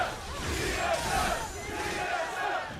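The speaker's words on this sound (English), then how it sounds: "Trying to figure out the chant the crowd is doing." Large arena crowd at a League of Legends LCS esports match chanting in unison, a steady rhythmic roar of many voices rising and falling in repeated swells.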